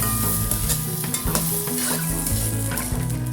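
Onion and potatoes sautéing in a pan for beef caldereta, a constant loud sizzle of frying with a spoon scraping and stirring through it, close up and without talk.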